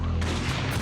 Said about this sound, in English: Seconds later, gunfire erupts.